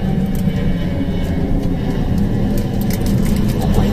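An airplane passes overhead above a home, producing a loud, continuous low roar that stays steady across the few seconds, with no other sounds standing out.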